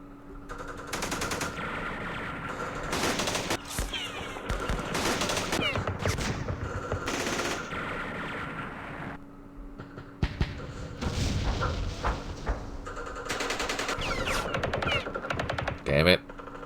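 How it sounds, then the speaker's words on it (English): Opportunity fire in a Vietnam war strategy game set at Dien Bien Phu: repeated bursts of gunfire and thumping impacts come in clusters with brief gaps, moderately loud, while a voice talks over parts of it. "Let's see if we can get some kills with our opportunity fire."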